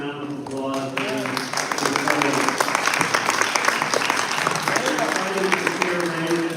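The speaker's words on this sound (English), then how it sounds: "Let's give them a round of applause." A town hall audience in Fremont, California bursts into sustained, dense applause that holds steady throughout, with a speaker's voice and cheers mixed in over the clapping.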